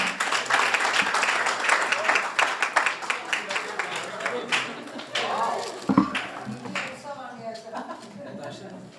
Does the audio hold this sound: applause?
yes